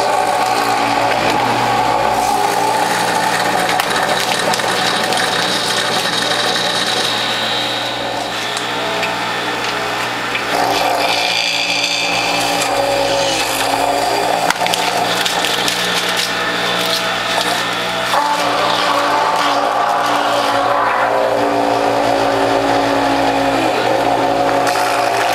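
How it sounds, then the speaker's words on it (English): A juicer motor strains loudly and continuously while grinding ginger, turmeric and collard greens, a dense, grinding whine with shifting pitch throughout. "Now I can tell my motor's working hard"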